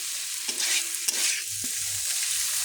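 Cauliflower tossed with spice paste in a hot pan gives a steady broad sizzle, with several scraping strokes of a spatula close by and no talking.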